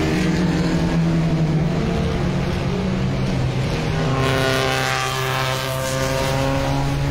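A Honda Civic engine revs hard during a race between a Civic Estilo and a Civic Type R, sustaining a loud, high-pitched whine that shifts pitch as it climbs and eases, close and continuous.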